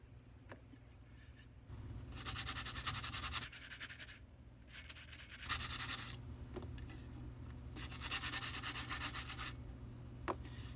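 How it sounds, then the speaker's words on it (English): Hand sanding of a cured epoxy coat on a glitter pencil tumbler, steady close rasping strokes in two long bursts with quieter pauses between, a few light taps. "this is epoxy you are sanding"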